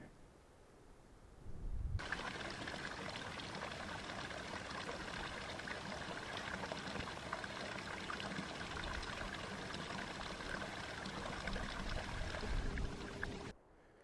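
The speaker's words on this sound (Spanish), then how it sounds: "Otra fuente, amigos. Aquí no falta agua, eso seguro." Water pours steadily from a mountain spring fountain on a hiking trail in the Brañas de Saliencia, Somiedo, Asturias, a close, continuous splashing stream that starts abruptly and runs until it cuts off.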